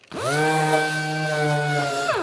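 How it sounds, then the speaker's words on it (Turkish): A power sander whines up to a steady high-pitched drone while sanding a plastic part, runs continuously for about two seconds, then winds down at the end. "Şimdi başlayalım zımparaya."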